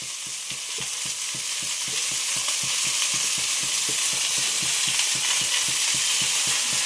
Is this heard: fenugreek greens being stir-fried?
yes